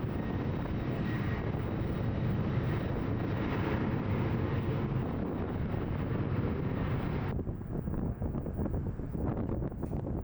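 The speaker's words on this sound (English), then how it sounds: "We also saw a lot of seaplane activity." A seaplane's propeller engine drones near the Ketchikan airport across the bay, a loud steady hum mixed with wind buffeting the microphone, which drops away sharply partway through and leaves a quieter hum.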